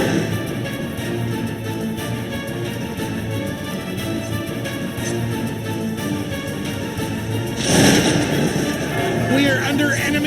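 Battle din in the strategy game Cossacks 2, Poland against Russia: continuous layered musket and artillery fire rumbling under a steady hum, with a louder burst of shots near the end.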